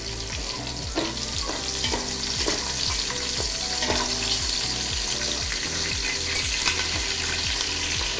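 Onion paste hits hot oil in a frying pan for an Andhra-style mango fish curry, giving a loud, steady sizzle with repeated scraping stirs throughout.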